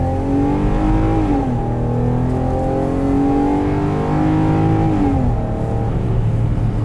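A 2018 Ram 1500 Express with a 3.6 liter V6 revs up loud and close, its engine note climbing in pitch through rising gear pulls and dropping briefly at each shift, with no talk.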